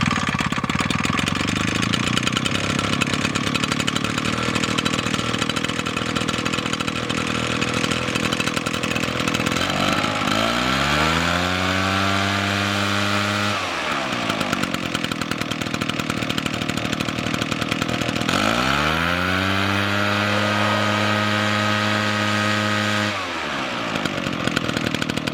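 An 80cc Yuzhoukee backpack blower engine runs loud and close, a steady two-stroke roar that twice drops to idle and rises again as the throttle is eased off and revved.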